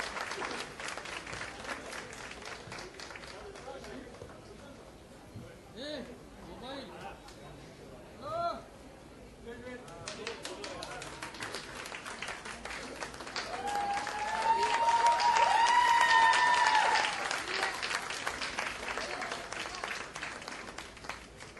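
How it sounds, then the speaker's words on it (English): An audience at a book launch in an indoor hall breaks into applause that builds to a loud, sustained swell before tapering off, with a voice heard over the crowd beforehand. "let's give Shreya Saxaria an encouraging round of applause on the first"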